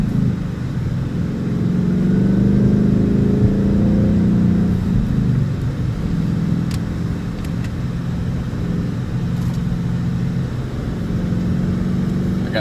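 A 2018 Ford Mustang GT engine drones steadily from inside the car on a test drive, swelling as it accelerates early on and then holding a loud, even cruising rumble with road noise underneath.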